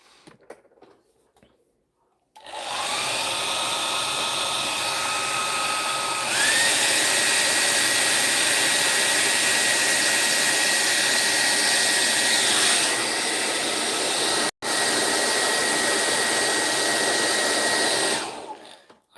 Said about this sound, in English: Just gonna hair dry.